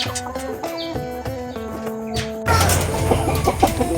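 Close, rhythmic clucking comes from a small flock of Light Sussex and Barred Plymouth Rock cross laying hens in their coop, then gives way to louder, noisier scuffling in the last stretch.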